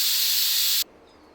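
A loud, steady burst of steam hissing from a pressure cooker while cooking dal, cutting off abruptly after under a second, leaving quiet background.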